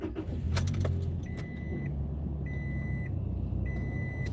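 A car pulling away to drive, with steady engine and road rumble throughout, a jangle of keys near the start, and repeated high electronic warning chimes sounding in regular bursts.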